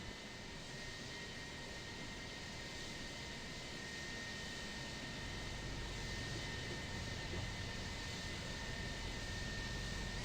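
An Airbus A321 in Flight Simulator X on final approach with flaps full and landing gear down, a steady broadband engine and airflow roar with a faint whine, growing slightly louder and heavier in the low end partway through.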